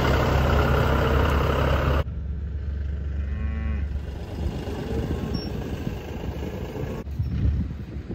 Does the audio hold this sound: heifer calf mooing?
yes